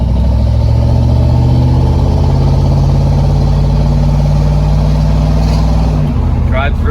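A 1969 Ford Mustang 428 Cobra Jet rolls up a street, its V8 giving a loud, steady low rumble close to the microphone that holds even throughout with a slight shift near the end.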